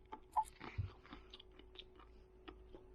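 Someone chews crunchy homemade eggplant chips up close, faint crisp crunches and bites scattered over a few seconds against a quiet background with a low steady hum.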